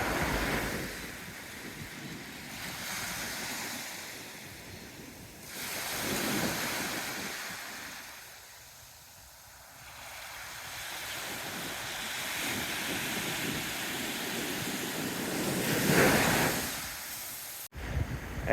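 Surf rolls onto a beach at Melaque, Mexico, in broad washes that swell and fade over several seconds, with wind rushing across the microphone throughout.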